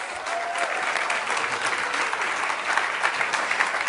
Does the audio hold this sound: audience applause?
yes